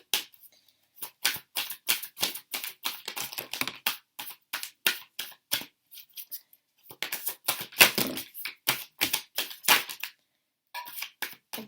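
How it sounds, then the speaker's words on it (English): Tarot cards are shuffled by hand in quick bursts of dry riffling and flicking, close up and fairly soft, with short pauses between the runs and no talking. "I'm just shuffling these cards."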